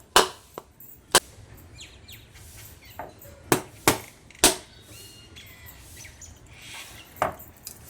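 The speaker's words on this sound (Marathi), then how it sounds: "आता ह्या पोह्यांसाठी मी नारळ फोडते" A whole coconut is struck hard to crack it open for its water, several sharp, loud, close knocks, some in quick pairs, with quiet room sound and faint birds between them.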